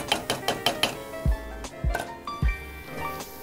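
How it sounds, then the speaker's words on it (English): A frying pan going back onto the stove while cooking beef stroganoff, preceded by quick metallic clinks and taps, then three dull knocks of the pan settling, fairly close and alone. "Pop your pan back onto the heat"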